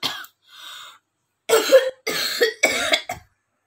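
A short burst of coughing: a single cough, a brief pause, then three harsh coughs in quick succession, close and loud.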